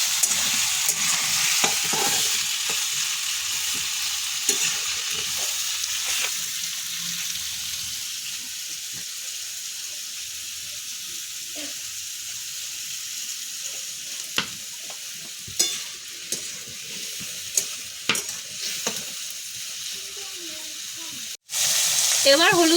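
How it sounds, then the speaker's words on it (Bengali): Vegetables frying in a pan with light salt, stirred steadily, a soft continuous sizzle with occasional scrapes and clinks of the spoon, close and moderately loud, no talking. "হালকা লবণ দিয়ে দিলাম, দিয়ে নেড়ে চেড়ে নেবো"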